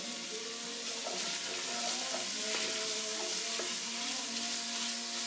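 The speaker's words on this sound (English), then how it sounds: "now we put the garlic and the onion" Garlic and onion sizzle steadily in hot oil, a constant close crackle with a few faint clinks of a utensil against the pan.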